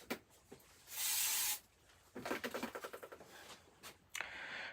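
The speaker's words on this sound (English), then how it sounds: "I'm just going to add a little bit of spray glue onto this one." Spray glue from an aerosol can is sprayed onto craft card in a long close hissing burst, followed by rustling and shuffling of card and a short second spray near the end.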